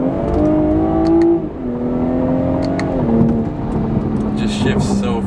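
A BMW 340i engine revs under acceleration, its drone dropping in pitch a few times as the automatic gearbox shifts quickly, with a person talking over it.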